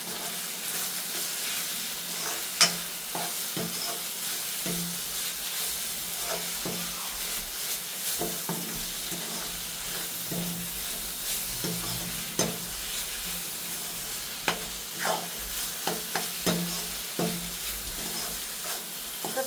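A spoon stirs carrot halwa with dried fruit and raisins in a hot pan, giving soft sizzling and repeated scraping strokes, close and steady throughout with no talk.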